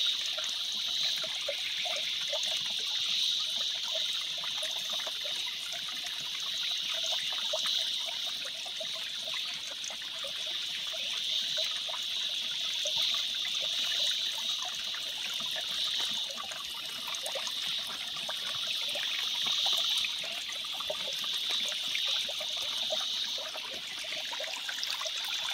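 Flowing water trickles and splashes steadily at low volume for the whole stretch, with a bright, even hiss and no voices.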